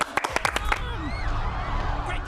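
A television studio audience breaks into a short round of clapping at the start, sharp claps over a few moments, then gives way to voices speaking.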